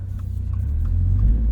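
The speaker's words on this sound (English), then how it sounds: "All right, so setting off with this new GR Performance exhaust." A 2023 Toyota GR86 Premium with a six-speed manual and GR Performance exhaust pulls away, its low engine rumble building steadily and close by, no voices.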